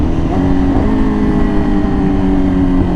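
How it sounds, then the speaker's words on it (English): A Yamaha R6 600cc motorcycle engine screams at high RPM, a loud, sustained, raspy tone that holds steady and close throughout. "it is screaming so loud. This motor just is so loud."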